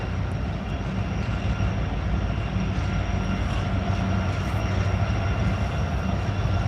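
A Norfolk Southern coal train rolls past with rear distributed-power locomotives, a loud, steady rumble and clatter of wagons that continues unbroken, with no talk.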